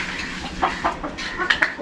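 A backyard chicken gives a few short clucks, several quick bursts close by over a faint background murmur.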